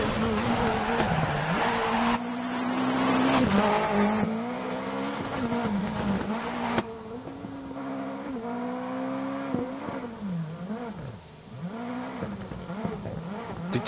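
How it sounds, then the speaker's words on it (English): A rallycross car engine in the Assetto Corsa racing game revs up and down through gear changes, loud and close, with a tonal drone that rises and falls. "they sound like old school rally cars when outside."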